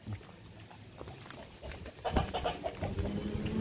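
Chickens cluck and stir around their relocated coop in a Filipino farmyard, a jumble of close, uneven calls growing busier and louder toward the end over a rustling background.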